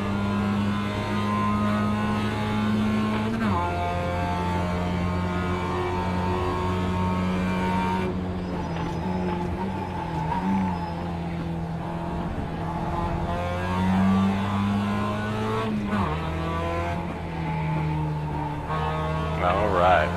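A race car engine in the iRacing simulator drones steadily, its pitch stepping up and down through gear changes, and someone talks over it throughout.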